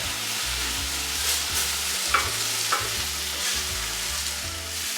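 A spatula scrapes the bottom of a pan of rajas con crema, roasted pepper strips in cream and salsa verde, in rhythmic repeated strokes over a steady sizzle.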